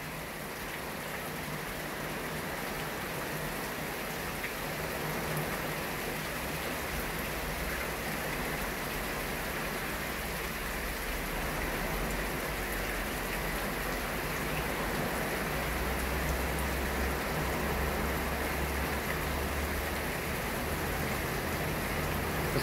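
Steady, dense rain drums on a tin roof without letup, a constant hissing patter with a low rumble underneath and no voices.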